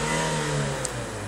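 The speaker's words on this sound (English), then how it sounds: "engine sounds absolutely spot on." A Fiat Punto engine revs in a brief, steady burst, with a smooth mid-pitched drone held close and fairly loud.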